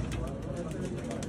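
Breeder pigeons coo in a loft, soft low throaty calls repeating close by beneath steady background noise.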